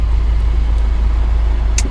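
Subaru WRX STI engine droning steadily at low pitch while driving calmly at cruising speed, a constant rumble from inside the car with no talk.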